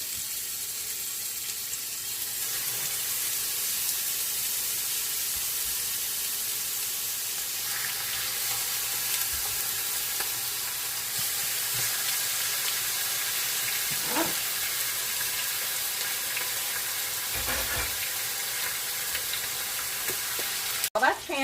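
Steady loud sizzling and crackling of chicken thighs searing skin side down in a hot pan, continuous throughout, with a few faint clinks and scrapes.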